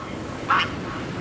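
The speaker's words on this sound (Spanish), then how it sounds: "el lejano graznido de los gansos canadienses que regresan de sus estancias en el sur" Canada geese honking in spring at Yellowstone, a single brief nasal call heard at a distance over faint ambient background.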